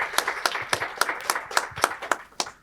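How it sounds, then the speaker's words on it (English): A small audience claps for a speaker at an education panel discussion, a thin, faint run of separate claps at a loose, quick rhythm. "Round of applause for Jennifer."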